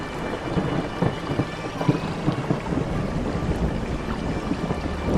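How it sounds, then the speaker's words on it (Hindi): Heavy rain pours steadily while deep rumbles of thunder roll through, loud and close, with no voices. "तभी जोरदार बिजली कड़की, बारिश और तेज हो गई।"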